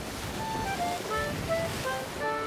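Rolling ocean surf in the Sea of Thieves video game, a steady broadband wash of waves with wind, with faint tonal music notes floating above it throughout.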